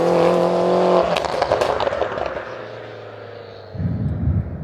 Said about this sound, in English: Ripping through the 6-speed gearbox, and we'll give that turbo and that mad engine map a proper workout.